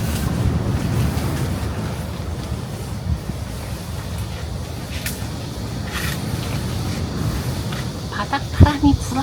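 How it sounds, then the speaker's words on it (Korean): Gusty ground wind at the Yeongok Solhyanggi pine campsite buffets the microphone with a steady, heavy low rumble. Faint rustles and a few brief knocks sit on top. "바닥 바람이 불어요."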